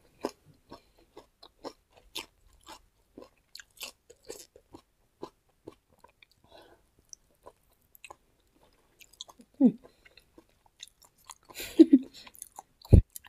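Someone chews and eats som tam papaya salad with rice, close up, with quiet, sparse crunchy bites and wet chewing sounds spread through the clip. A few louder mouth noises come near the end.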